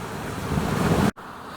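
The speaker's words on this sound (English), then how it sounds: "There's about 13 knots of wind and the waves are really small." Wind of about 13 knots and small waves while sailing near Baranof Island, heard as a loud steady rush of wind and water noise that cuts out abruptly near the end.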